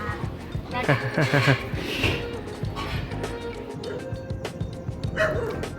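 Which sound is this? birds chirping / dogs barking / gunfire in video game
dogs barking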